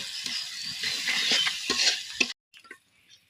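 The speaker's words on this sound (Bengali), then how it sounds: "স্বাদ পরিমাণ মতো হলুদের গুঁড়া এবার এগুলো আমি মিশিয়ে নিব" Spices and turmeric powder stirred in a sizzling frying pan for grass pea dal rice, a steady close hiss with scraping strokes that stops abruptly, leaving a few faint clinks.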